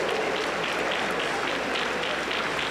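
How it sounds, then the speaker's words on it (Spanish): Sustained applause fills a Pentecostal church service after a healing, steady dense clapping from a congregation throughout, fairly loud and close with no clear talk over it. "Aplauso para ese milagro de Dios."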